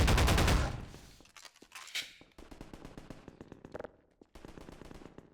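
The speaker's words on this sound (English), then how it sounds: "I want to be able to just keep shooting this gun." Rapid automatic gunfire from a weapon in the video game Half-Life 2: Episode One, a loud dense burst of shots up front, then quieter repeated shots and impacts in clustered volleys, no speech.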